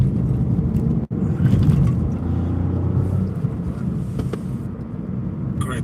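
A small 1.2-litre turbocharged car engine runs steadily in the cabin while driving, a continuous low rumble with a brief dropout near the start, no talk over it.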